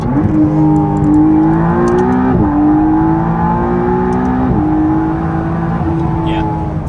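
McLaren hybrid car engine droning loudly from inside the cabin as it pulls through the gears, the pitch climbing and dropping at two seamless shifts, with a voice talking over it.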